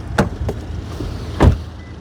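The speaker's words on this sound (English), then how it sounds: "I'm going to start with the sound of the closing door." Front door of a 2026 Subaru Outback Touring XT shutting, a solid close with a firm low thud, preceded by a couple of lighter latch or handle clicks, near and alone.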